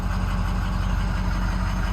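A heavy diesel engine of a 2005 Ford F650 truck idles steadily up close, a low continuous rumble with a slight uneven chug throughout.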